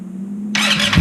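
A GY6 180cc scooter engine with a Taida head is turned over by its starter motor, a steady hum giving way to a loud, broad whirring crank that lasts about half a second and swells at the end.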